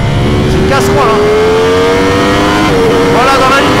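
A Ducati Streetfighter V4S motorcycle accelerates hard down a track straight, its engine note loud and close and climbing steadily through the gears with brief shift dips.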